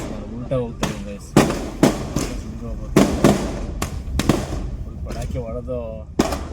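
Firecrackers burst in a street on New Year's Day, sharp loud cracks landing irregularly every second or so, with people talking between the bangs.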